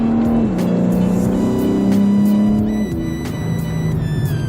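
A 2021 BMW M3 Competition with a limited-slip rear differential accelerating hard, its engine note loud and close, climbing and dropping through quick gear changes with sharp shift cracks punctuating the sustained roar.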